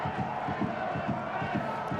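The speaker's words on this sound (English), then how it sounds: "the crowd obviously making a bit of noise against them" Home supporters at a Portadown v Linfield Irish Premiership football match chant in a steady rhythmic roar, regular pulsing beats of crowd voices carrying across the ground at moderate distance.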